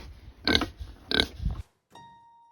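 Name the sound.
pig grunting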